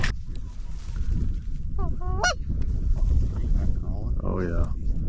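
Canada geese honking during a North Dakota goose hunt, a few separate calls from the flock ringing out over steady wind noise, fairly close and clear.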